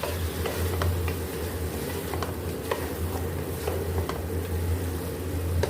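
Spices with paprika powder frying in a pan while being stirred, a constant sizzle with soft scraping and light ticking of the utensil, close and steady.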